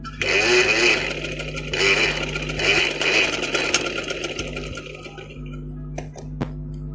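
A domestic sewing machine runs in bursts while stitching a patti strip onto the back neck of a ladies' kameez, with a steady mechanical whir and rattle close by and short pauses between runs.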